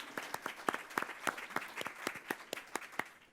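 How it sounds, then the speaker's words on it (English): Fairly quiet applause from a small audience after a restaurant-industry panel discussion in Columbus, with individual claps clearly distinguishable in an irregular, fairly close patter. "A big round of applause to them"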